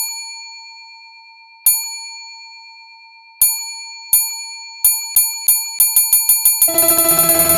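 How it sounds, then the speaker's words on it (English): A bright counter bell dings alone in a video game, first a few spaced rings, then faster and faster taps piling into a rapid ringing flurry at the end. "you go up to the front counter and you see that there's a bell."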